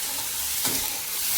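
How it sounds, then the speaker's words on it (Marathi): Masala frying in hot oil gives a steady, close sizzle and crackle, with a brief stirring scrape in the middle. "तेलात फ्राय करून घ्यायचं चाललंय"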